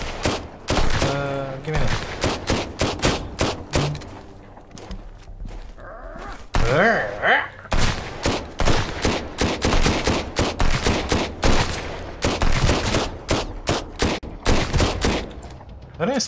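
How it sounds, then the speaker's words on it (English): Enemy gunfire in the Sunkenland video game, rapid bursts and volleys of shots crackling densely throughout, loud and close, with brief thuds and someone speaking a few words midway. "these people firing like crazy in here"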